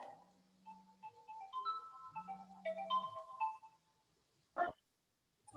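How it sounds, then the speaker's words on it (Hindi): Phone ringtone during an online class, a short, quiet electronic melody of sustained tones with a low buzzing note, followed by a brief sharp click. "हाँ बेटा, एक फोन आ गया था फोन पे"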